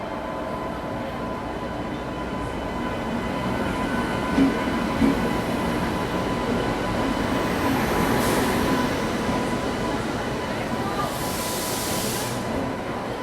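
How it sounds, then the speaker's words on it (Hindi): The Sealdah Rajdhani Express pulls into Kanpur station with a steady, loud rumble of rolling wheels and carriages, broad hiss and occasional clanks filling the platform throughout, and no voices over it. "यहाँ पीछे देख रहा हूँ कि राजधानी का अराइवल हो रहा है। तो सियालदा राजधानी भी आ रही है।"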